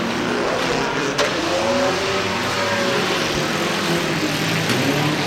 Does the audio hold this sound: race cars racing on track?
yes